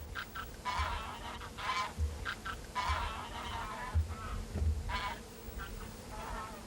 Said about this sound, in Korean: 기러기의 요란한 울음소리는 장거리 비행에 서로를 격려하기 위한 것이다.